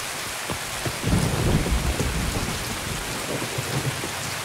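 Heavy rain pours steadily on the Shoreline map of the video game Escape from Tarkov while a low thunder rumble swells and rolls through the middle, fairly loud, with no voices.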